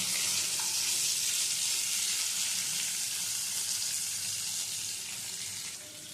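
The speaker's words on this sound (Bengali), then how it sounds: "কাটোয়া ডাটাটা আর দিয়ে দিচ্ছি কেটে নেওয়া ঝিঙে সব সবজিগুলো হালকা করে একটু ভেজে নেব" Ridge gourd, kata data stems and other chopped vegetables lightly frying in a pan, giving a continuous close sizzle that eases slightly toward the end, with no talking.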